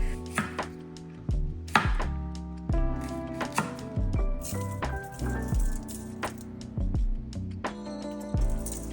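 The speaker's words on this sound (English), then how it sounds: "I'll start prepping my salad by cutting up asparagus and Brussels sprouts" Knife chopping asparagus and Brussels sprouts on a cutting board while prepping a salad, a steady run of crisp, close taps in uneven bursts, with no talking.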